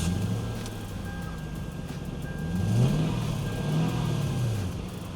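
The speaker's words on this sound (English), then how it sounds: "Nothing like some cold rev starts on an old Toyota, right?" Cold-start revving of a 22-year-old Lexus with a Toyota 4.3 liter 3UZ V8 engine: two rising and falling rev swells over a steady idle, fairly close and moderately loud.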